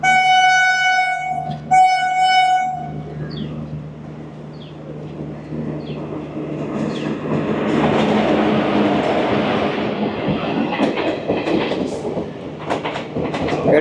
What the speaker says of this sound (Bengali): এটা হচ্ছে হাওড়া বালুরঘাট এক্সপ্রেস